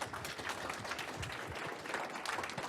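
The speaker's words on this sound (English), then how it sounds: "So clap it up for Enzo." Audience applause for a presenter at a university career fair prep session, a steady wash of clapping from a room of people lasting throughout without a break.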